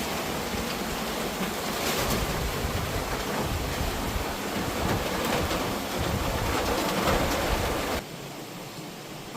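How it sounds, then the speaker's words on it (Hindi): Heavy rain pours in a dense, steady hiss, loud and unbroken, easing slightly near the end. "ओहो, क्या बारिश!"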